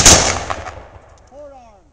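A single sharp rifle volley fired by an honor guard at an outdoor Veterans Day ceremony, a loud crack with a reverberating tail that fades within a second, no voices.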